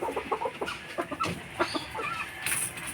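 A hen clucks in short, repeated bursts close by, joined by other farm fowl calling in the background of a backyard flock; no one speaks.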